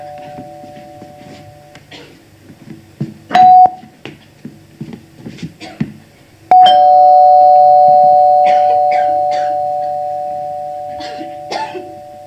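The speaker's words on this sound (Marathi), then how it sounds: "किती वेळ झाला बेल वाजते घराची?" A doorbell chimes twice, each ring sustained and ringing out over low household noise and scattered movement, the second ring longer and fading slowly.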